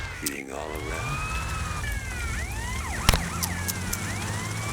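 Police sirens wailing in the GTA Vice City mod Tightened Vice, several overlapping rising and falling tones sweeping across one another during a chase, with a sharp crash partway through and a voice talking over them.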